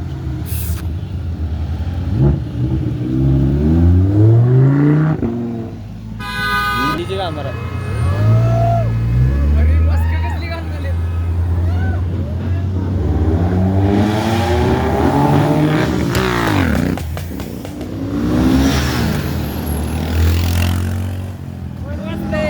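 Car engines rev and roar at the entrance to a busy car event, with rising and falling engine sweeps, a short horn toot and hissing brakes from passing vehicles, all close and loud, with people talking among the traffic.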